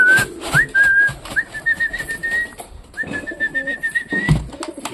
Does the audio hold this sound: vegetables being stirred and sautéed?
no